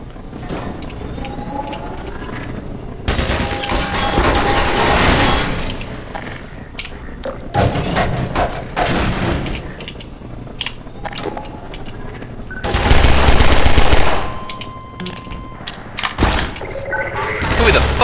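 Gunfire from the Half-Life 2 video game: repeated shots and loud bursts of fire arrive in clusters over about eighteen seconds, with game noise and shouting voices mixed through the fighting.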